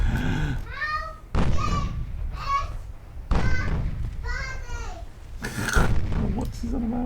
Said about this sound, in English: A little one in the background making noises.